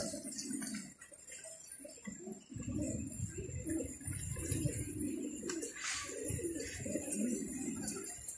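Pigeons coo in low, throaty rolling phrases, several birds close by in a loft, repeating steadily with brief pauses, while someone speaks briefly.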